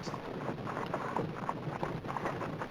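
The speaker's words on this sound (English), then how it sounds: "a horse and cart" Steady hooves clopping along with a rolling, rumbling cart under a broad wash of outdoor noise, continuous and moderately distant.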